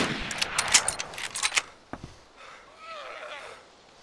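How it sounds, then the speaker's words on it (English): A burst of rapid gunfire in the survival video game DayZ, several sharp shots clustered in the first second and a half, then a lone crack and fading distant noise. "I think there are people shooting everywhere."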